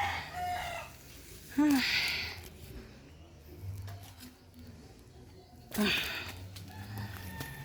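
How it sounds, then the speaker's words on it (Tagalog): Chickens clucking outdoors in a village with a couple of loud crowing calls rising above, separated by quieter stretches of low background noise and faint voices. "Marinig mo lang mga manok."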